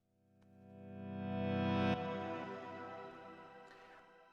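A reversed reverb effect swells smoothly from nothing to a loud peak, then cuts off sharply and leaves a fading reverb trail, all in a short musical passage without speech.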